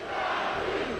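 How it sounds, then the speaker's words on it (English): A crowd at a Pokémon TCG championship final roars in a dense, continuous cheer with no breaks. "Listen to this crowd."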